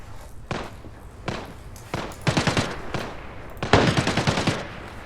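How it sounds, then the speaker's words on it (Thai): Bursts of automatic gunfire outdoors in the shooter game Arena Breakout Infinite, several rapid volleys with single shots between, moderately loud and somewhat distant. "มันยิงกัน โอ้โห ยิงกันใหญ่เลยครับ ข้างนอกนะ"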